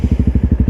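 A Honda CRF250L motorcycle with a flashed ECU idles close by, its single-cylinder engine thumping in a steady, fast loping rhythm of even pulses, loud and alone.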